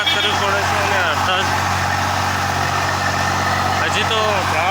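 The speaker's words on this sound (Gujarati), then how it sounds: "કેટલી બધી તાકાત કરવી પડે છે આ ટ્રેક્ટરને" A tractor engine labours with a deep, steady drone as it hauls a trolley loaded with about 350 maunds of maize up a slope. Someone talks close by over the constant heavy hum.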